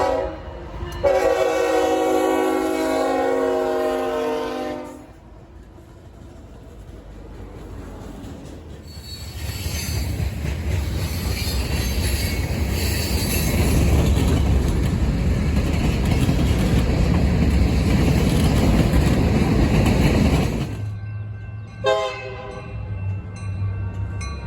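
Model trains rolling at the Colorado Model Railroad Museum on a BNSF Fall River Division layout, with a horn sounding early, then a long stretch of loud rumbling wheels and squeal, and a final horn blast near the end.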